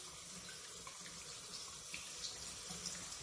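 A makeup brush is worked against a bar of soap under steadily running tap water, a continuous close splashing and trickling with faint rubbing, no talk.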